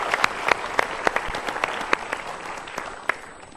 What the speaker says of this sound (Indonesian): Boleh kasih tepuk tangan untuk sahabat super kita?